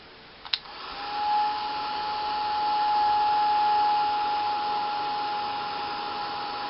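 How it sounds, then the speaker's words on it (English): A heat gun blows hot air in a steady, even whooshing drone with a faint whine. A small click starts it, and it runs close and loud for several seconds while glass-look flowers are made, with no talk. "take your heat gun"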